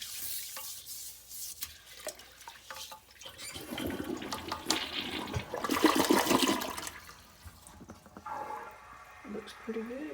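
A toilet flushes after cleaning with homemade pink foaming cleaner, water rushing and gurgling in a swelling surge that peaks then drains away, heard close with faint background sounds.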